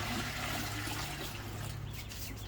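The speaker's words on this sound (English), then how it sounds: "there's a bucket down here just to kind of pour a little bit in" Water pours into a bucket on a farm, a steady splashing gush that runs through without pause and eases slightly toward the end.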